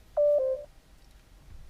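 A Parrot Asteroid hands-free unit in a Range Rover P38 places a phone call: a single clear electronic tone of about half a second sounds alone, followed by quiet hum.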